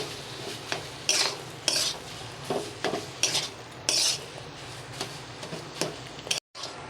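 A spoon stirring coriander and cumin powder into a fish, potato and pointed gourd curry in a wok, scraping clinks repeating in an uneven rhythm over a soft sizzle, close and fairly loud.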